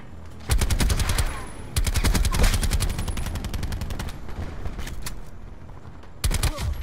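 Rapid bursts of assault rifle fire from a Black Ops 4 multiplayer match rattle almost continuously and loudly, with brief gaps between the strings of shots.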